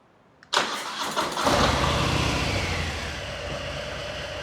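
A Harley-Davidson motorcycle engine cranks and fires up with a sudden loud catch, then settles into a steady, rumbling idle close by, with no one talking.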